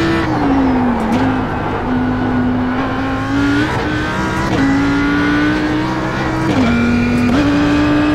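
Audi R8 LMS GT3 race car in the iRacing sim on the Nordschleife, engine droning loud and steady at high revs, pitch climbing then dropping sharply with several quick gear shifts.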